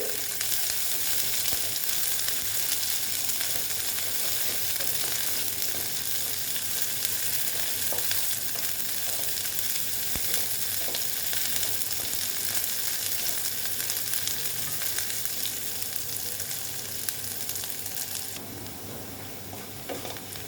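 Chopped onions fry in a pan for red amaranth greens, a dense, continuous sizzle that stays loud and even throughout before easing slightly at the end, with no voices.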